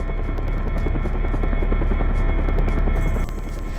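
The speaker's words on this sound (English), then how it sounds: "Let's just get to the chopper." Helicopter in the Syphon Filter 2 video game at McKenzie Airbase, a loud, steady rotor drone with dense rhythmic chopping that continues without pause, then drops slightly in level near the end.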